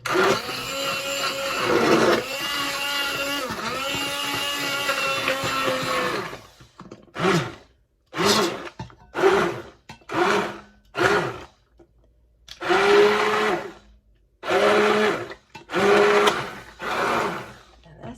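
A blender blending hot soup whirs loudly and continuously, then runs in a series of short pulses separated by brief silences.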